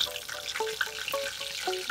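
Curry leaves dropped into hot oil while cooking a Marathi-style vegetable dish of kuda (Holarrhena pubescens) flowers, producing a sudden crackling sizzle with quick spitting pops, close and steady through the short moment.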